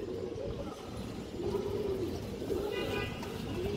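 A large pigeon coos softly at close range while being handled for display, low repeated coos under steady background noise.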